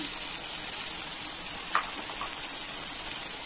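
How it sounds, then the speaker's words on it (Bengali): Onion and garlic paste sizzling in hot oil, seasoned with salt and turmeric, for a Bengali katla fish curry with kakrol; a steady, close, bright frying hiss with a few faint knocks and no talk. "এখন পেঁয়াজ বাটা রসুন বাটা ছেড়ে দিলাম, লবণ দিলাম, হলুদ দিলাম"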